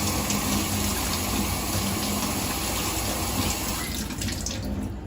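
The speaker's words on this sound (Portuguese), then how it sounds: "a gente pega um abacaxi e a gente vai lavar ele aqui na água corrente" Tap water runs steadily over a whole pineapple being washed, a constant moderately loud splashing gush that slightly shifts and thins near the end.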